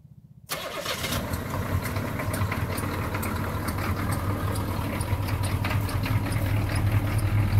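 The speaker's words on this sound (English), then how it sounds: "This thing actually fires up really fast for being cold." A 1985 Chevrolet Blazer with the 6.2 diesel catches after a cold start and settles into a steady, loud, clattering idle with a constant low rumble close by.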